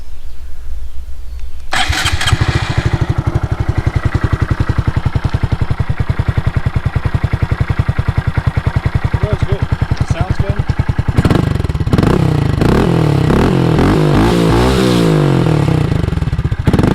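A motorcycle engine cranks and catches, then idles with a steady loud rumble before the throttle is opened for several rising revs; a person talks briefly over it.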